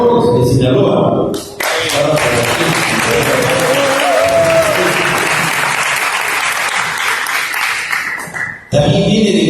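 An audience at a cooking event applauds a chef from Sinaloa, a thick continuous wave of clapping that starts abruptly after a brief voice, holds steady, then cuts off near the end.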